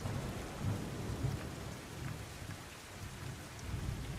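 Heavy rain pours in a dense, continuous wash over North Gujarat, with soft low rumbles swelling now and then.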